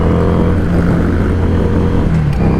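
A 2017 Harley-Davidson Street 500 motorcycle engine drones steadily while riding, with a continuous low rumble and wind noise at fairly loud level, no voices.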